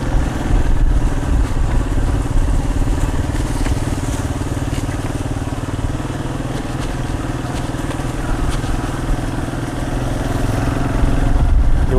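A G-Moto Cross X PRO moped rides along a dirt track toward a lake, its engine droning loudly and steadily throughout with clattering and wind noise, no talk.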